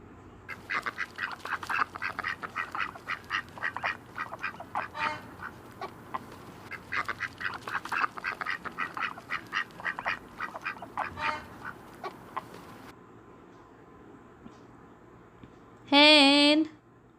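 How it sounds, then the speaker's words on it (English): Ducks quack in rapid, busy bursts for several seconds, a dense chattering flock sound, followed by a brief pause and a short voice near the end. "Duck,"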